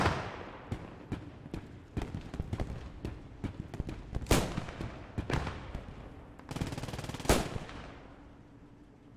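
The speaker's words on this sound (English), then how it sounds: "Where is the gunfire coming in?" Gunfire from the video game Post Scriptum: rapid, irregular volleys of sharp shots crack out, some bursts louder and closer, others fainter, over about nine seconds.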